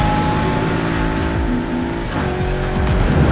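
A Chevrolet Camaro Z28 drifts in Need for Speed Heat, its engine roaring steadily while the tires squeal through the slide, loud and close throughout.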